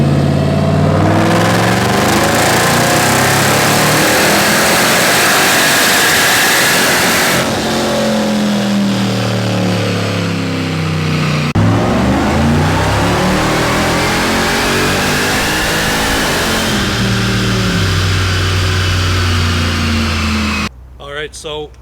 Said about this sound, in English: Michaels Trackhawk just got finished being dynoed